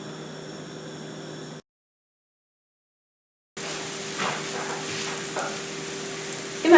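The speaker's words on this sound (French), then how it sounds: "dans une poêle, je vais verser un peu d'huile d'olive pour faire revenir les oignons" Onions sauté in olive oil in a frying pan, a steady close sizzling hiss that cuts out for about two seconds of silence and then returns slightly louder with small crackles and a clunk at the end.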